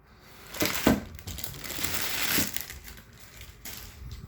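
Scissors cutting an embroidered patch out of its fabric after removal from the hoop, a few close crunchy snips and fabric rustles with uneven gaps; no talk.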